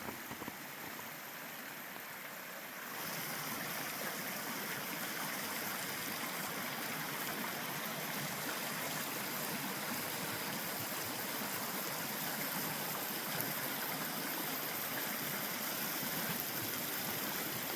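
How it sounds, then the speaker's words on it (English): A creek rushes steadily nearby, a continuous broad wash of flowing water that grows fuller after the first few seconds. "I'm just going to walk down here and enjoy the creek."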